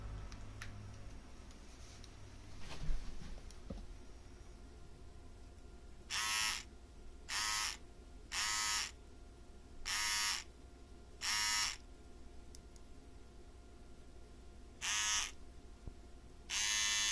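An electric nose hair trimmer runs in short, regular bursts of high buzzing whir as its blades turn, about eight pulses separated by gaps, close up over a quiet room.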